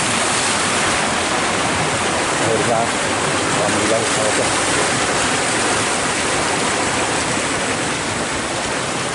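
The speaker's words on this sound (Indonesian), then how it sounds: "Tuh ada sungai juga di sini." A river flows beside rice paddies in Surade, Sukabumi, as a loud, constant broadband rush of water fills the whole clip while someone speaks briefly over it.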